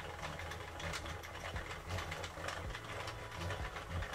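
A Sentro plastic knitting machine being cranked round in panel mode, a continuous rapid clicking and rattling whir at an even rhythm, close and moderately quiet with no speech.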